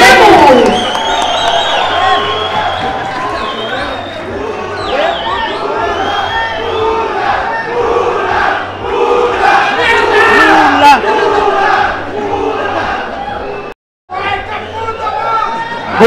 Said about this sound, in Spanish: Fuerte los aplausos para Domingo Lemus.